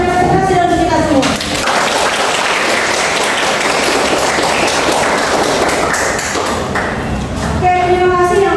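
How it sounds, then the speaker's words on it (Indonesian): A classroom audience breaks into applause for a successful group, steady clapping lasting several seconds between spoken words at the start and end. "kita beri tepuk tangan untuk yang berhasil dari kita semua"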